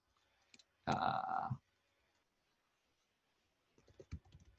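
Computer keyboard typing in two short bursts, a quick dense run of clicks followed after a pause by a few scattered keystrokes, close and fairly quiet, with no talking.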